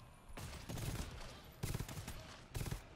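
Bursts of machine gun fire in the video game GTFO, a dense rattling fusillade that swells in three rough waves over a constant background roar, close and loud with no clear talk.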